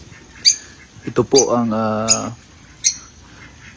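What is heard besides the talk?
African lovebirds squawking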